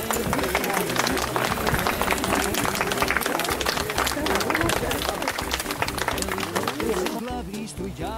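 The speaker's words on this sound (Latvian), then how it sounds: "aplausi" An audience at a September 1 school-start gathering claps steadily throughout, mixed with crowd hubbub and overlapping voices, before the clapping thins near the end.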